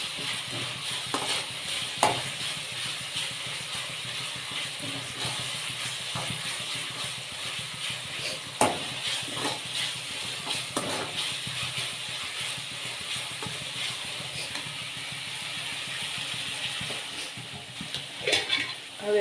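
Fried rice being stirred in a pan, a steady soft scraping and faint sizzle running throughout with occasional sharper clicks of the spoon against the pan, no one talking.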